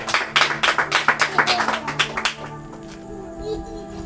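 A church congregation claps in a quick, even rhythm of about a dozen loud claps over two seconds, then stops, leaving a quieter hum of the room.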